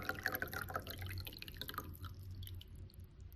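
Water poured into a bowl of tahini, a quick splashing, dripping trickle close by for the first couple of seconds before it thins out and fades into quiet room noise.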